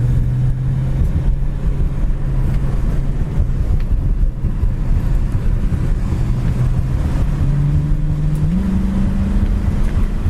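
A black 1965 Ford Mustang with a 289 four-barrel V8 and automatic transmission on the road: a loud, steady engine drone with rushing wind noise, the pitch stepping up near the end as the revs climb.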